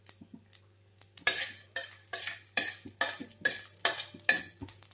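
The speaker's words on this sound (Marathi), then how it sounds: "आता ही खसखस टाकून घेते. खसखस आहे ना एवढं का लगेच भाजली जाते." Poppy seeds dry-roasting in a pan for kheer, heard as a series of rhythmic scraping and stirring strokes of a utensil against the pan, fairly quiet and close, with no talking.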